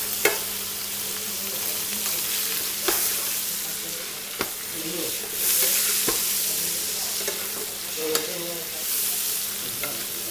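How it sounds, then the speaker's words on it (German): Beef fillet steak, already browned on one side, sears in a hot pan after being turned, giving a steady close sizzle with scattered sharp pops and crackles throughout. "jetzt drehen wir uns Steak auf. Das ist von einer Seite auch schon angebraten."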